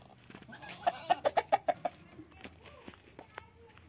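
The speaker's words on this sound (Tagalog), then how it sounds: "So ayan yung ating manok." A farm chicken clucks in a quick run of about eight sharp, evenly spaced clucks, then a few scattered softer ones, close by in a quiet rural setting.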